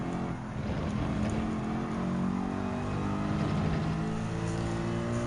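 A Mercedes-AMG GT3 2020 race car in Gran Turismo 7 during a time trial, its engine a loud, steady, close drone that holds throughout without any talking.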